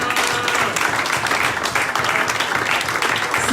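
A church congregation breaks into steady, dense applause that fills the room throughout, with no voices standing out above the clapping.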